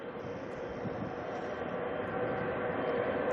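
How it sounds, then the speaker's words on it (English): A Qatar airliner with GE90 jet engines departs from Auckland Airport, its broad engine roar rumbling steadily at a distance and slowly building in loudness. "We've got Qatar about to depart. We got to listen to the GE90s go crazy."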